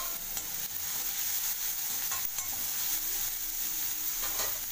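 Ridge gourd sautéing with curry leaves and salt in a pan: a soft continuous sizzle under repeated stirring scrapes of a spatula, fairly quiet and close, no talking.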